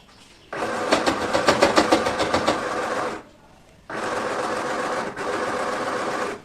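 A sewing machine stitches lehenga fabric in two bursts of steady, fast mechanical whirring separated by a short pause, close and fairly loud, with no talking.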